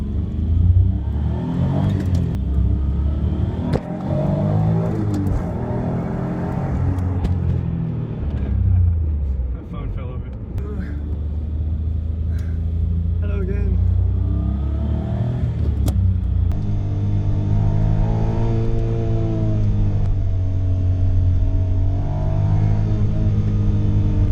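An Autozam AZ-1 sports car engine pulls hard while driving, its buzzy drone climbing and falling through the gears in a sustained, loud, close cabin rumble.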